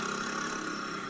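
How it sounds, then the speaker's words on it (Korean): Motorcycle engine running on a city street, a faint steady drone under broad street noise with no clear rise or pass-by. "이건 오토바이 소리고요."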